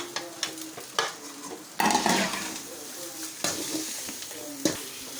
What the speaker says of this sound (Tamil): அதை நல்லா வதக்கிக்கலாம்